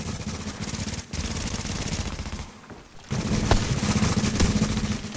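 Rapid automatic gunfire in the video game Squad, loud continuous bursts of close shots with a brief lull in the middle before another heavy volley.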